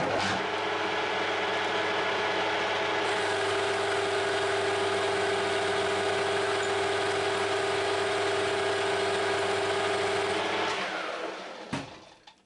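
A metal lathe taking a cut with a carbide tool, a steady machine whine and hum with tonal drones that hold for about eleven seconds before the spindle stops and the sound winds down to silence.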